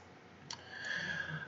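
Right-click of a computer mouse while opening a folder in Git Bash: a single soft, sharp click, faint and close, followed by low computer hum.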